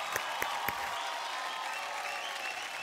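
Audience clapping for a performer's Lavani dance on a Marathi TV stage show, a steady sustained wash of applause with a few sharper claps near the start, no voices over it.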